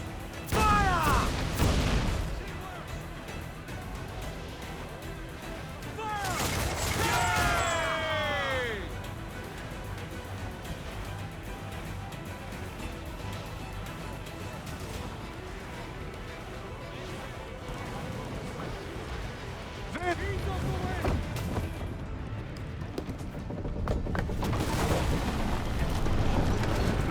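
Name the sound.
cannon fire from a ship in Assassin's Creed IV Black Flag video game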